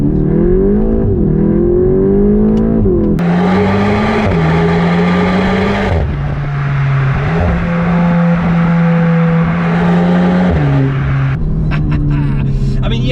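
VW Golf GTI Clubsport 45 Edition, front-wheel drive, accelerating hard in first gear, engine note climbing loud and close from inside the car with gear-change dips, and a voice speaking over it.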